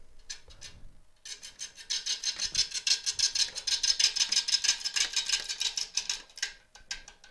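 A heavy elm burr spins on a wood lathe as a tool scrapes it, giving a steady, rhythmic rasping that pulses in fast repeated strokes, close and alone without talk.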